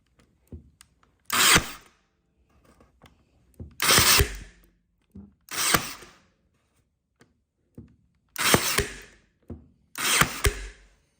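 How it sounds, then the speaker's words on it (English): A brad nailer fires into fence boards used to build a Christmas decoration, giving five sharp, close bursts spaced a couple of seconds apart, with faint taps and handling sounds between them. "And a little bit of brad nailing."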